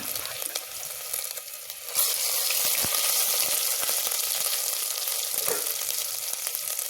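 Ginger and garlic frying in oil, a steady crackling sizzle that swells louder partway through and carries on evenly, with a few sharp clinks of a spoon against the pan.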